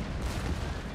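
Gunfire in the Empire: Total War battle game, a dense, rumbling stretch of musket volleys and distant shots blended into a steady low roar, fairly quiet and with no clear individual cracks.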